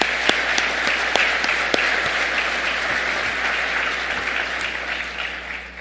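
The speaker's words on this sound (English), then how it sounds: "how about another round of applause for all of our wonderful award winners?" Sustained applause from an audience at a bowling association convention's annual meeting, honoring award winners; steady, dense clapping holds for several seconds with a few sharper claps near the front, tapering slightly at the end.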